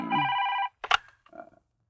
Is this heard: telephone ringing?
yes